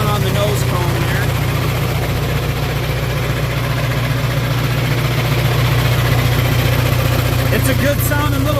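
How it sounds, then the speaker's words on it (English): A 1962 John Deere 3010 tractor engine idles steadily at close range, a constant low rumble with a smooth, even throb running for the whole stretch, loud and unbroken. "It's a good sounding little tractor"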